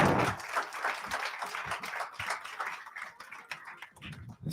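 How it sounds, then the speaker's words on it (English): A live television final audience applauds, a dense wash of many hands clapping at once, steady and fairly loud throughout. "Give Josh a massive round of applause."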